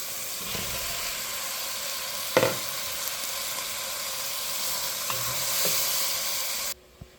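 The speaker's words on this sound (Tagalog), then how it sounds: "Ilagay na pa ito ng hipon." Shrimp fry with ginger, onion and tomato in a pan for a sayote and pork sauté. A steady close sizzle runs throughout, broken by a few knocks of a utensil, before it cuts off abruptly near the end.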